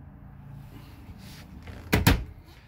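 A pantry door in a 2011 Fleetwood Tioga RV bangs shut with two quick, close knocks about two seconds in, following a quiet stretch of faint rustling.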